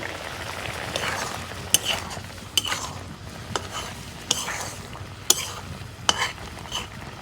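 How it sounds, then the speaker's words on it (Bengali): Potatoes sautéed in a pan for a dish with taki fish and bottle gourd greens, a utensil stirring and scraping with sharp clicks every second or so over a soft, steady sizzle, close and moderately quiet. "আলু ভালো করে কষে নেন"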